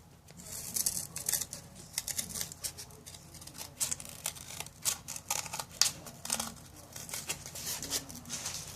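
Scissors cutting out a paper sketch for a handmade fidget spinner, with repeated close snipping and crisp paper rustling in an irregular rhythm, no voices.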